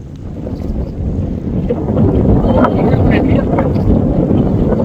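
A sailboat with a polythene sail is pushed by the wind along a river in Bangladesh, heard as a steady, loud rush of wind buffeting the microphone over a low watery wash, which grows slightly stronger partway through.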